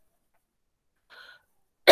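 A lecturer at an asthma talk who has a vocal cord nodule lets out one sharp, loud cough near the end, after a brief soft throat sound and silence.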